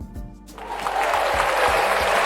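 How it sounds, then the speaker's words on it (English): Soundboard applause effect swells from quiet into a steady wash of clapping and cheering, continuing evenly to the end under brief murmured talk. "I have applause on the board."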